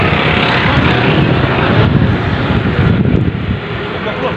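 Strong storm wind roars steadily during a rainstorm in Bekasi, West Java, a loud, dense rushing blast buffeting the microphone with no pauses and no talking.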